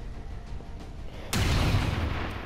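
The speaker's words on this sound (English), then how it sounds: "Try to shoot the robot." A gunshot aimed at a robot mech in XCOM 2 cracks once, loud and sudden, over low ambient game noise, its boom hanging briefly in a rumbling tail.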